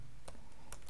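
Fingers tapping out a make-directory command on a Mac keyboard, a few soft, close key clicks over faint room hum.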